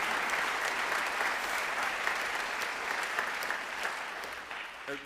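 Loud, sustained applause from the audience at a Scottish regional brass band championship results ceremony, a thick continuous clatter of many hands holding steady throughout.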